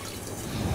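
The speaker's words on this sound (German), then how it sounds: "Dann haben wir einen Topf. Da geben wir ein bisschen Wasser hinein." Water runs briefly into a cooking pot, a soft, steady trickle with no talking over it.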